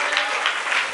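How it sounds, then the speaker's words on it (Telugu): A church congregation clapping together in praise during a sermon, a dense continuous wash of hand claps with a steady pulse, loud and full for the short moment. "చప్పట్లు కొట్టి దేవుని స్తుతిద్దాం"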